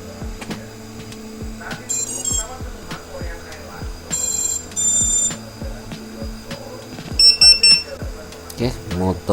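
Several short high-pitched electronic beeps in bursts from a racing drone's flight controller buzzer, with quick clicking pulses and a brief chirp sequence near the end.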